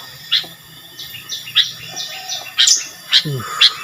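Forest birds chirping near a few houses deep in the woods, with repeated sharp high tweets and short calls at irregular intervals, fairly close and clear over a quiet background.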